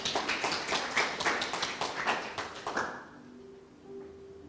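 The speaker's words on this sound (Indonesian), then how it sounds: "Berikan tepuk tangan." Scattered clapping from a church congregation at an Indonesian service, sharp individual hand claps coming in quick uneven bursts for a few seconds before dying away into quiet room tone.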